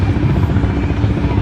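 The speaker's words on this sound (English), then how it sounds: "now we've got a helicopter" A helicopter passes overhead with a steady, loud rotor chop and a continuous low engine rumble throughout, with no talk.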